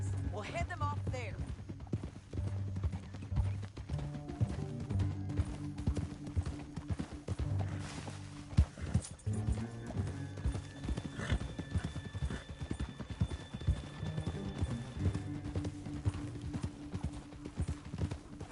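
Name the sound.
horse hooves clip-clopping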